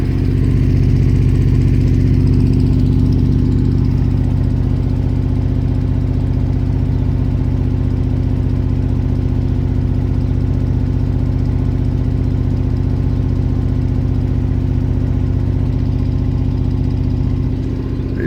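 A 1972 Range Rover engine idling with two or three cylinders misfiring and running slightly rich, a loud steady low rumble with an uneven beat, heard alone and close throughout.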